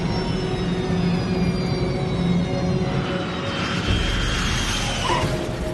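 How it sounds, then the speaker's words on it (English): A jet airliner roars steadily through a landing, with a continuous loud engine rumble and a shifting whine as the thrust changes. "The plane touches down at 7:32 a.m."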